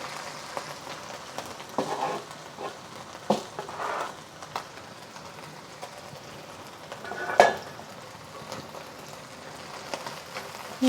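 Onions frying in a wok for minced pork with peas give a steady, moderate sizzle, with occasional scrapes and clinks of a utensil against the pan.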